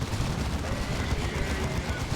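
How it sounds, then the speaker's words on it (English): Psy Cannons firing during a Dawn of War 2: Retribution battle, heard as steady dense crackling and booming gunfire with a continuous loud roar of combat. "so that should be a buffed Psy Cannon that they are firing"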